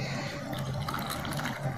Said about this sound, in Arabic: هنحط ميه مغليه كده